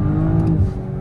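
Audi RS5 engine revving as the car drives, a loud continuous low growl with steady harmonic drone and a slight rise in pitch, no talking.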